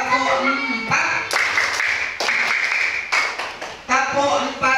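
Children in a grade 3B Indonesian classroom answer spoken cues with rhythmic bursts of clapping, several crisp claps in quick groups separated by a leader's voice and the class chanting.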